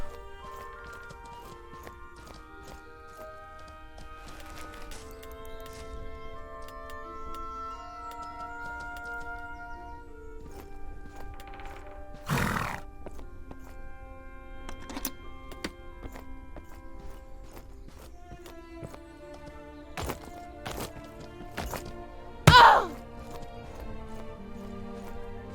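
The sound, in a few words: horse hooves in video game Mortal Online 2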